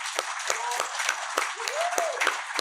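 A live podcast audience applauds the crew with steady, fairly close clapping throughout the short stretch, sharp individual claps standing out, with a voice briefly heard over it.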